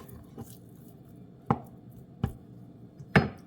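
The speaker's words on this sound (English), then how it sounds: "finish chopping up the chicken and putting it in jars" Four knife chops on a cutting board cutting up seasoned chicken for canning, sharp thuds spaced irregularly about a second apart, close and fairly quiet with little else around them.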